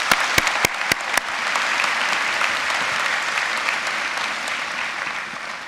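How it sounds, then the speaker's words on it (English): A commencement ceremony audience breaks into applause for a school leadership team, a few sharp single claps at first swelling into steady, dense clapping that fills the hall and holds level to the end. "Please join in giving these members of the school's leadership team a round of applause"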